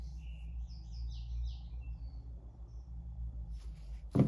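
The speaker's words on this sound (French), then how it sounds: "J'ai entendu les petits oiseaux." Small birds chirp in a quiet room, giving a few faint high twittering calls over a low steady hum, with a brief clatter at the end.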